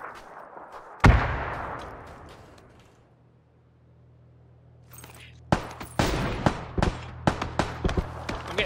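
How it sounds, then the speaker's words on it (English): Gunshots in PUBG: one loud crack, a quiet lull, then a rapid string of sharp shots fired in quick succession, with faint voices in the background. "I'm getting shot"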